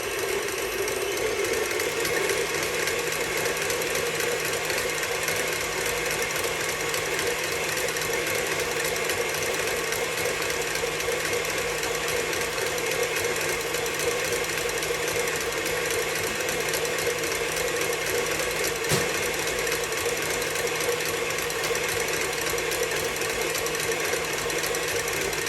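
An electric mixer fitted with a whisk beats apple butter and cream cheese for a gooey butter cake, a steady high whirring hum that runs without a break for the whole stretch, with no talking.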